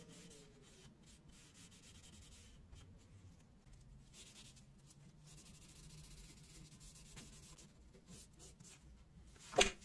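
Oil wax being rubbed onto a finished wooden piece with a cloth, a steady soft scrubbing and rubbing texture at close range, with one brief louder scrape near the end.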